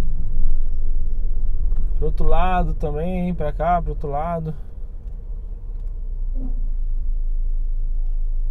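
Busy weekday avenue traffic rumbles steadily from start to finish, a constant low engine drone of passing cars heard from inside a car, with someone talking over it for a couple of seconds midway.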